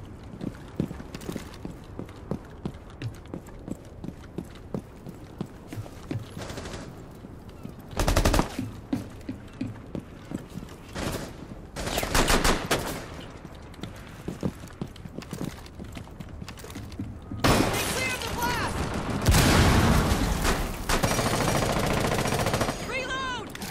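Gunfire from a weapon in Rainbow Six Siege, played on the Nighthaven Labs map: scattered bursts of rapid automatic shots and single cracks across the clip, heaviest near the end, with footsteps and game noise and occasional talk between players.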